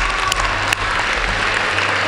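Audience applause at a school winter athletic assembly, a loud, dense wash of clapping from a large crowd in a hall, steady for about two seconds.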